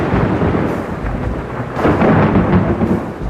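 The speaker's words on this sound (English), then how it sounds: "Huge thunderstorm in the middle of winter" A winter thunderstorm brings deep rolling thunder over steady rain, the rumble swelling louder midway, close and heavy, with no voices.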